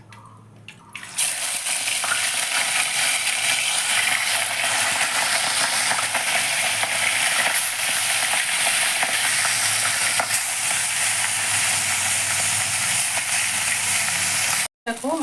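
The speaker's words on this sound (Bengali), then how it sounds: "দেখো, আমার মাছটা খুব সুন্দর ভাজা হয়ে গেছে।" Salted rohu fish pieces fry in white oil mixed with ghee, giving a loud, steady, hissing sizzle that runs almost unbroken for the full length, with only a brief cut near the end.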